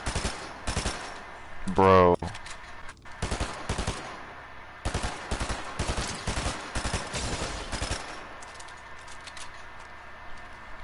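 Gunfire in Fortnite, a video game, cracking out in short rapid bursts, some crisp single shots between them, while someone speaks briefly over the shooting.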